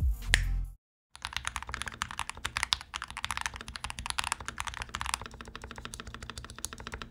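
Steady fast typing on a lubed and modded budget IO Typex mechanical keyboard: close, continuous keystrokes with a fuller, smoother thock, heard alone after a short silent gap.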